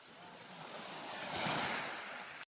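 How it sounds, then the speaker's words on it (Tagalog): Ocean surf on the shore of Palaui Island roars as a continuous loud wash, swelling midway as a wave breaks, with wind buffeting the microphone before it cuts off. "palakas ng palakas yung alon"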